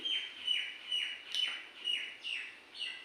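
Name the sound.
birds chirping outdoors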